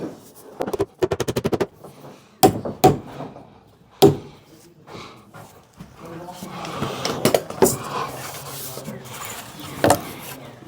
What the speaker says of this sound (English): Just put a nail in the top, just like we did with the other ones.